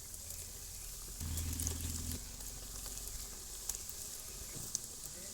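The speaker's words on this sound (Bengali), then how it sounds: "তেল গরম হয়ে গেছে, আমি বলগুলো ভেজে নেব।" Cabbage balls fry in hot oil in a kadai, a steady, close crackling sizzle throughout that swells briefly louder early on, with occasional small pops.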